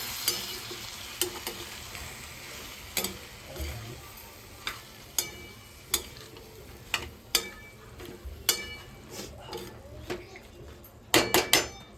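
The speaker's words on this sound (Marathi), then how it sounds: "तसं मिक्स करूया भाजीला." Vegetables are stirred in a sizzling pan, a steady frying hiss broken by a regular series of sharp spoon-on-pan clicks and scrapes, with a quick cluster of knocks near the end, close and without talk.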